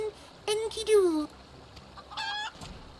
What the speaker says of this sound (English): I tamed a rooster and painted it green